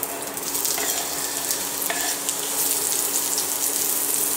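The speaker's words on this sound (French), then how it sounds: "On verse dans la cocotte." Liquid poured into a cooking pot, a continuous bright splashing hiss that holds steady for several seconds with faint clinks near the start, no voices.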